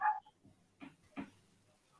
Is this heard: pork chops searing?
no